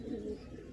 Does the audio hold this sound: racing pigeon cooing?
yes